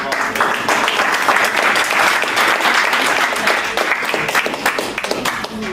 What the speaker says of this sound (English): can we give a big round of applause to the people in the